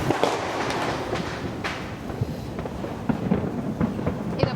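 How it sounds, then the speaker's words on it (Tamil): A Diwali ground spinner firecracker (sangu chakkaram) going off outdoors, a steady rough hissing roar with scattered crackles and pops over several seconds. "ஃபர்ஸ்ட் அவங்க போய் வைக்க போகிறது சங்கு சக்கரம்."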